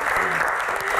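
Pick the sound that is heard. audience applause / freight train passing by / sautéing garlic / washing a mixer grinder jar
audience applause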